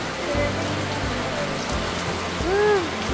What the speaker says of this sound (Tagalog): Yan na po, natuloy na ang ulan.